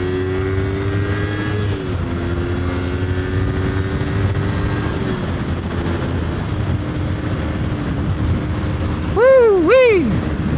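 Kawasaki Ninja 250 motorcycle riding along a winter highway, its engine droning steadily with wind roar throughout, shifting pitch at a couple of gear changes, followed by a brief rising and falling whoop near the end.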